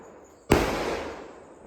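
A single sharp Vishu firecracker bursts outside in the early morning, a sudden loud crack out of near quiet that rings off and fades over about a second.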